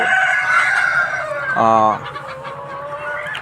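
Layer hens cluck in a poultry shed, a close, busy chorus with one loud rooster-like crow in the middle, while a voice talks faintly beneath the birds.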